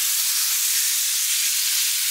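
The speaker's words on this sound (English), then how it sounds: "now that we have a nice sear on both sides, I like to hold it on the ends, sear that in" Deer venison meat sears in a hot pan with a steady, loud broadband sizzle and hiss that holds constant throughout, close up, with no talking.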